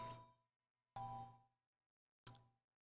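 A phone notification chime rings three times, soft bell-like tones with clean decays and gaps between them, faint and alone without talk.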